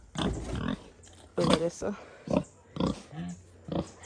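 Pigs on a Jamaican farm grunt and oink in short, close bursts as they are fed, mixed with someone talking nearby.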